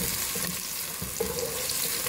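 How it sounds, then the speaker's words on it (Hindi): Onions sizzle and fry in a pan while being browned for chana dal khichdi, a dense, continuous, close crackle with faint stirring scrapes and no talking. "प्याज हमारा लाइट ब्राउन हो चुका है, अब इसमें लहसुन अदरक का पेस्ट शामिल करेंगे।"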